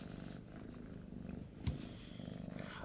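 A cat purrs softly and steadily, low and close, with a faint rumbling texture under light background noise from a computer setup.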